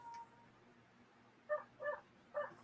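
A dog somewhere nearby gives three short, faint, muffled barks in quick succession, heard from a distance indoors with little else around.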